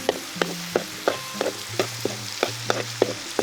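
Ginger and garlic sizzle and fry in a pan, with a string of sharp stirring clicks and scrapes at a steady rhythm over a continuous quiet crackle, close and clear, with no talk.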